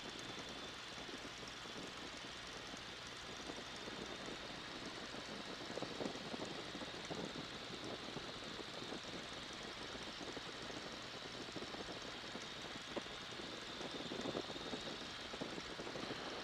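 A Boeing N2S-3 Stearman biplane flies low on approach to a runway, and its radial engine drones steadily and loudly throughout with a coarse, even rumble and no speech.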